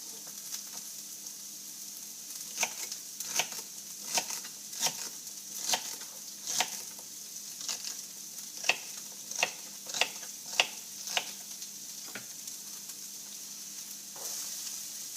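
Celery tossed in olive oil gives off a soft, steady sizzle in the pan, broken by a run of light, regular clicks and taps from the pan or a utensil during stirring.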